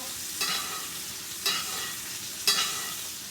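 A steak sears and gets basted in a cast iron pan, with a constant close sizzle broken by three evenly spaced spoon clinks and splashes as hot fat is spooned over the meat.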